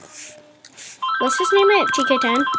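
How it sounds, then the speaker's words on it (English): A telephone ringtone starts partway through and plays a bright, busy electronic melody loudly and continuously, following brief talk from a nearby voice. "That's the phone."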